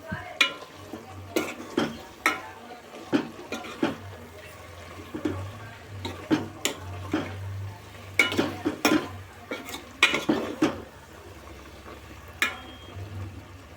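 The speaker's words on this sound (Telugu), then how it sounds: "మొత్తం కలుపుకుందామండి" A spoon stirs a village-style curry of cucumber, tomato and broad beans in a cooking pot right after chili powder goes in. Rhythmic scraping strokes and clanks sound up close over a low sizzle.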